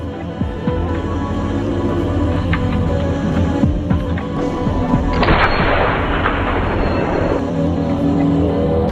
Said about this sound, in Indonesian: ia melepaskan sebuah tembakan yang begitu dahsyat